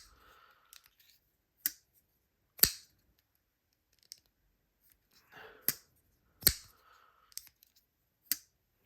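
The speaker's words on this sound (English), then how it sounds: "the lock bar makes like a sound when I disengage" A Finch Devil's Finger folding knife's lock bar clicks sharply as it is disengaged, several crisp, close mechanical snaps spaced irregularly in a quiet room with faint handling noises between them.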